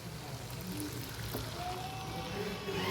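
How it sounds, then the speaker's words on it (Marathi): A little water poured into cooking spice masala, a steady low pour with a faint trickle under a soft background hum, quiet and close. "आता ह्यात आपण थोडंसं पाणी ॲड करूया, म्हणजे मसाले चांगले शिजतील आणि करपणार नाही।"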